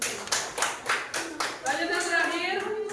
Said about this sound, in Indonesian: Tepuk tangan dulu untuk kelompok Febri.